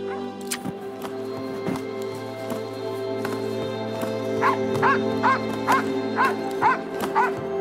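Many sled dogs bark and yelp excitedly over a steady background hum in the Canadian Rockies, with a run of rapid, repeated yips toward the end.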